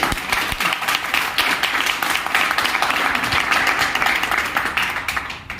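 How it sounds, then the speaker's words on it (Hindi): Audience applause fills a presentation hall, many hands clapping densely and steadily for several seconds before tapering slightly at the end, with no voices over it. "तो ताली बजा सकते हैं।"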